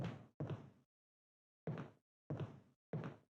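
A locked door being tried in the Resident Evil HD Remaster video game, five short, loud rattling thuds: two close together, a pause, then three evenly spaced, with silence between.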